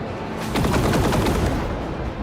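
Ship weapons in Rogue Trader fire a fast, rattling burst of rapid shots at a turret, starting abruptly after a quiet moment, staying loud and dense, then tapering slightly.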